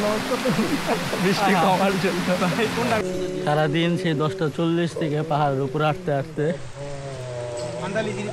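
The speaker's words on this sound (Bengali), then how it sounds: "রাস্তার মাঝখানে ধুমধাম বৃষ্টি, বৃষ্টির জন্য ওয়েট করতেছি, বৃষ্টি কমার জন্য।" Heavy rain falls in the hills of Bandarban during a mountain trek, a steady broadband hiss of rainfall running underneath continuous close conversation for the whole stretch.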